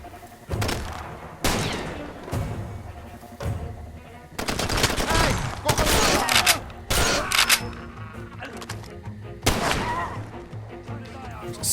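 Sharp pistol shots fired in the Far Cry 2 shooter, about seven loud cracks spaced irregularly across the clip over a dense game ambience, with a voice talking between shots.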